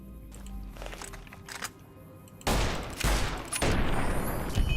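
A .357 Magnum revolver fires in Fallout: New Vegas on PC: a few sharp, fairly quiet gunshots cracking one after another after some soft clicks and handling noises.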